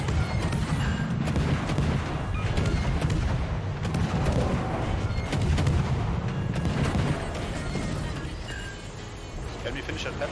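Naval gunfire from warship batteries in World of Warships, dense booming volleys rolling continuously and loud throughout, with low rumble and speech faintly mixed in.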